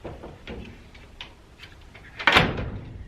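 A reclaimed wooden door on a workshop swings shut with a solid thud and latch click, after a few quiet knocks and shuffling sounds.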